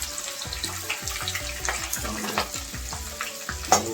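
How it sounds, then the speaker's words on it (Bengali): Raw onions going into hot oil with cardamom, cloves and cinnamon, a steady close sizzle and frying crackle with scraping stirs and clinks throughout. "মশলাগুলো গরম হয়ে এসছে, এবার দিয়ে দেবো পেঁয়াজগুলো। কাঁচা পেঁয়াজ দিয়ে দিচ্ছি"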